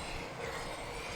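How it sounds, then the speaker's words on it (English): A small model steam engine's boiler boiling during its first steam run after reassembly, heard as a steady, dense hiss with a low rumble. The sound is close and constant, with no pauses and no voices. "I can hear it boiling now"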